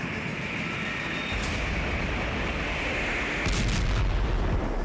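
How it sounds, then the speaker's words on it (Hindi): A FAB-3000 three-ton guided aerial bomb explodes in Kharkiv: a deep, powerful blast rumbles on, followed by a second jolt that swells louder, leaving a sustained low roar like a distant massive explosion. "रूस ने यूक्रेन पर 3 टन के फैब 3000 बम से हमला किया।"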